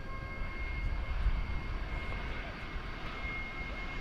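An airliner departing DFW Airport at night for Madrid produces a faint, distant, steady engine rumble with a low roar and a thin whine above it.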